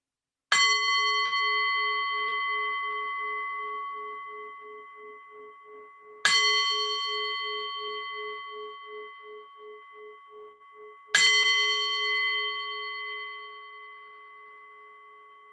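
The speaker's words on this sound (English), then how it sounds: "And I'm going to begin with 3 bells." A meditation bell is struck three times, each strike a clear ringing tone that decays slowly with a gentle pulsing shimmer, spaced about five seconds apart in an otherwise silent room, close and fairly loud.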